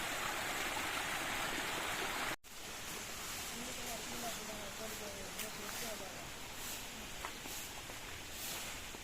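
Continuous rushing water of a small stream, close and steady, with a brief cut early on and a voice speaking faintly over it.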